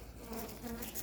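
Honeybees hum softly inside a weakened beehive, a low continuous buzzing heard up close under faint background noise.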